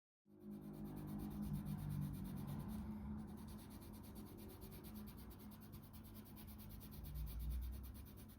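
Colour pencil burnishing and glazing on paper while drawing a cat, a close, steady scratchy rubbing that continues without a break and is heard alone.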